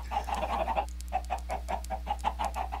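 A chicken in Minecraft clucks repeatedly, close and clear, in a quick run of short rhythmic clucks over a low steady hum.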